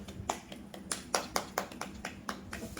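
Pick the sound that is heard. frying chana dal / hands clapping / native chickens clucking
hands clapping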